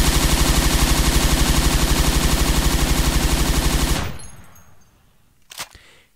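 Thompson submachine gun in Forgotten Hope 2, a loud continuous rapid-fire burst with a steady rhythmic pulse lasting about four seconds, then fading into quiet with a faint thud.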